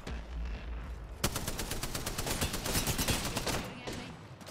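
Video game gunfire: a sudden loud shot followed by a rapid, steady burst of automatic fire that rattles on for a few seconds, then trails off.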